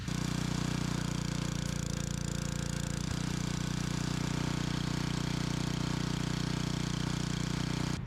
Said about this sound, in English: I'm basically just running the pressure washer in it for 5 to 10 seconds